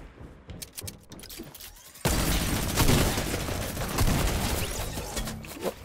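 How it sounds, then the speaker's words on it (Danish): Gunfire in the Fortnite video game: after a quieter opening with scattered clicks, a loud, dense burst of rapid shots and blasts starts suddenly and keeps going steadily to the end. "Hvor er jeg skudt for?"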